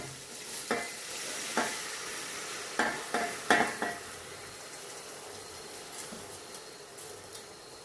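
Washed rice going into a pot for egg pulao, followed by several scraping stirs over a constant sizzle, close up, with the strokes clustered early and fading to lighter taps later.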